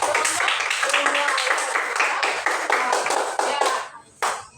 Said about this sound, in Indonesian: di sini yang beri tepuk tangan ya untuk kelompok